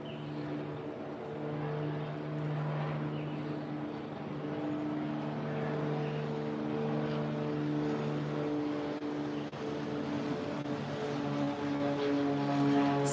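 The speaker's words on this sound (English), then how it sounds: "Sorry, you guys, there's a plane." A propeller airplane drones overhead in a steady, sustained hum with layered harmonic tones, holding at a fairly even level from start to finish with no voices.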